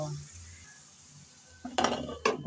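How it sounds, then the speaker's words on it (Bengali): A lid is set onto a cooking pot of prawn and potato curry, giving two sharp metallic clanks close by after a quiet stretch of low kitchen background. "এখন দিয়ে দেব ডাকনা ডাকনা দিয়ে আবারও কিছুক্ষণ রান্না করে নেব"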